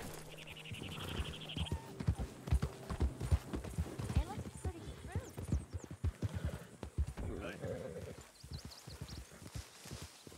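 Horse hooves pound in a quick, uneven rhythm in the video game Red Dead Redemption 2, mixed with snorts and whinnies, while people talk over them.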